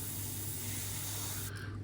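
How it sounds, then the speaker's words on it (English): A steady close airbrush hiss sprays paint at about 20 psi onto a plastic model kit, with a faint low hum underneath, the spray cutting off just before the end. "paint about 20 psi"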